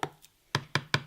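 A spoon knocks against a glass while stirring vitamin C packets into juice, giving a few sharp, close clinks, one faint and then three in a quick even rhythm.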